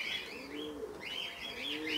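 A pigeon gives soft warbling coos in two short phrases, close and clear, with a faint flutter of wings between them.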